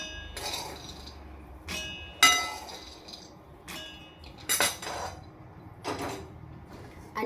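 Garlic and roasted peanuts tipped into a mixer jar, giving a few scattered clinks and rattles of hard pieces against the jar in a quiet kitchen.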